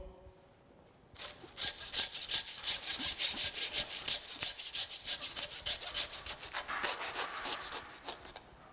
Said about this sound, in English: get my handsaw